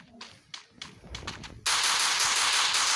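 Shotgun fire in the video game Free Fire: several scattered sharp blasts, then a dense continuous roar of rapid gunfire that sustains loudly to the end, with no talking.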